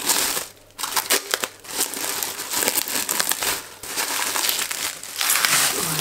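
Close, loud crinkling of plastic cling film as it is peeled from a frozen cake insert, with continuous crackling bursts and short pauses between pulls.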